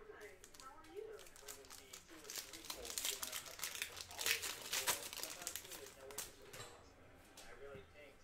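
A foil wrapper on a pack of 2020 Topps Chrome Black baseball cards is torn open, giving quick close crinkles and rips that peak midway, with faint background noise.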